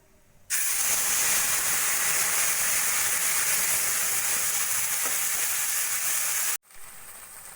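A paste of tomato, cashew, ginger and chili hits hot oil tempered with cumin, bay leaf, cardamom and cinnamon, bursting into a loud, steady sizzling hiss that holds for about six seconds and then cuts off abruptly.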